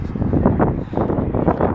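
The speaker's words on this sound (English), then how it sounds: "I know it's a bit windy" Wind gusting across a Flying J card lock fuel stop in Portage La Prairie, a steady broadband roar buffeting the microphone throughout, fairly loud and continuous with no talk over it.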